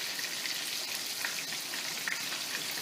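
Mustard-coated tilapia frying in hot oil, a dense, even crackling sizzle with small popping spatters, steady and close throughout.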